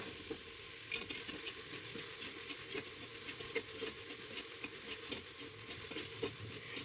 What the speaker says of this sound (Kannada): ಆ ಎಣ್ಣೆಲಿ ಈರುಳ್ಳಿ ಸ್ವಲ್ಪ ಆಗಬೇಕು ಅಲ್ಲಿವರೆಗೂ ಫ್ರೈ ಮಾಡ್ಕೊಳ್ಬೇಕು